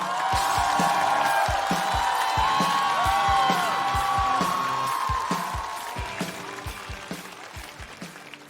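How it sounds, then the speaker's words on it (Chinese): A stand-up comedy audience welcomes a performer onstage with loud applause and cheering over an upbeat musical fanfare with a steady thumping beat, the crowd noise tapering off toward the end. "掌声欢迎黑灯"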